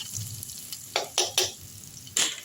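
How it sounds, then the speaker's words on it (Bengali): Ginger, garlic, onion and tomato paste frying for rajma curry, with a soft sizzle under several sharp scraping stirs of a spatula against the pan, four distinct strokes. "দিয়ে খুব ভালো করে এবার ভাজা ভাজা করে নেব। মশলাটা একটু ভালো করে ভেজে নেব।"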